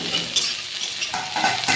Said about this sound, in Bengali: পেঁয়াজটা একটু লাল লাল করে ভেজে পেঁয়াজ ভাজা হচ্ছে।